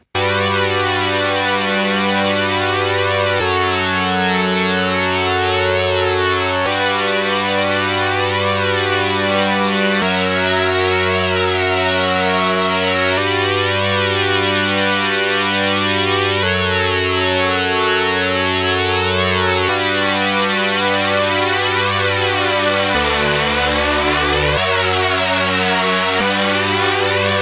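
Thick detuned synthesizer chords from the Full Bucket Music FB-7999 software synth, with a detuned second oscillator, shift through a slow progression, swirling and phasing like a flanger, loud and continuous with no voices.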